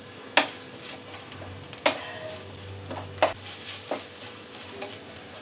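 Masala with chili powder being sautéed in a pan for stuffed idli, giving a soft steady sizzle broken by several sharp scrapes and clinks of the stirring spoon.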